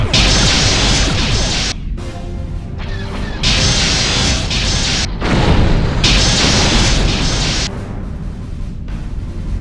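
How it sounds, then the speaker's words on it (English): Enemy starship blowing apart in a space battle game, heavy booming blasts and crashing debris in repeated bursts separated by brief gaps, loud and close. "enemy ship has been destroyed."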